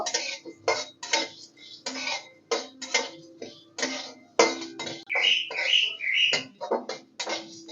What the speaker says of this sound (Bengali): এটা একটু আমি শুকনো খোলায় ভেজে নেব